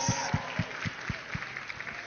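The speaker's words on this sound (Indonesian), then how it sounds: "Berikan tepuk tangan bagi Yesus." A church congregation claps in a steady rhythm, the claps faint and somewhat distant in a large room.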